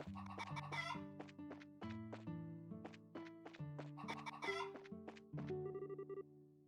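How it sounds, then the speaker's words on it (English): Chickens cluck repeatedly in the video game Trails in the Sky SC, loud and close with rapid overlapping clucks layered over a steady musical background, with no talking. "Chicken!"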